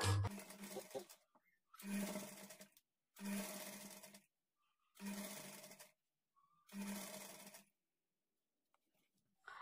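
A sewing machine stitches a blouse seam with a half-inch margin in five short, evenly spaced runs, each a brief whirring burst separated by near silence.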